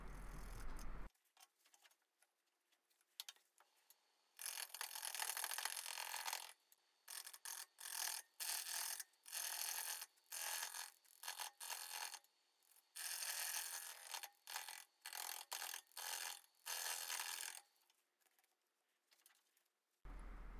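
Wood lathe cutting a spalted maple hollow form with a gouge, the tool biting in repeated loud rasping bursts separated by brief quieter pauses, close up and alone with no talk.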